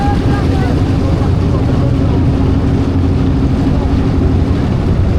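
Loud, steady low rumble of a trawler boat engine droning close by on Lalakhal canal in Sylhet, with the hum of water travel and voices faintly mixed underneath.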